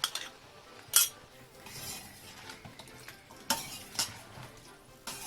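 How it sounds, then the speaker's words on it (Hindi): Beef stir fry with vegetables and a light gravy stirred in a pan, giving a soft steady sizzle broken by several sharp clinks and scrapes of the utensil against the pan. "अच्छी तरह इसको मिक्स कर लें।"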